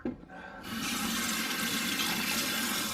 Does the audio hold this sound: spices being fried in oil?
no